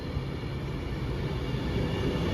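A train rolls into a station with a steady, broad rumble and rail noise, constant and fairly close throughout, with no voices over it.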